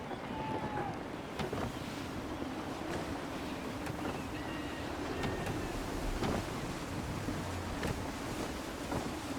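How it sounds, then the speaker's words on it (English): Gusty wind at sea around a sailing ship in Assassin's Creed 3, a steady broad rush of wind and water with creaks and gusts throughout, moderately quiet. "Gusty winds can be difficult to manage."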